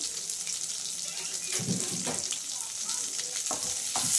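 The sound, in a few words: onions frying in a pan for palak paneer gravy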